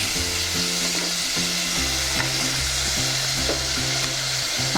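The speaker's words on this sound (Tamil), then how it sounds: "இப்போ தக்காளி நல்லா வணங்கட்டும்." Tomatoes sauté in a hot pan for Tamil-style egg kurma, with a steady close sizzle and repeated stirring scrapes and knocks of a spoon against the pan.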